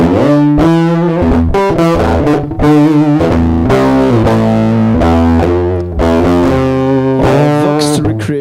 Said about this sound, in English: a very noisy fuzz.